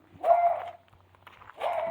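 A dog barks in a backyard lavender garden, two medium-distance barks separated by a short pause, each a drawn-out, slightly whiny woof.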